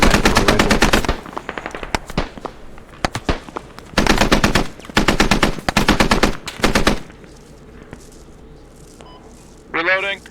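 Rifle gunfire in a shooter video game, sounding as dense bursts of rapid automatic fire with gaps between volleys, ending in quieter sounds and a short electronic tone.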